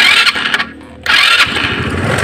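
A Rusi Gala scooter engine, mid carburetor tuning, sputters briefly, drops off, then catches and settles into a loud, close, buzzy running idle.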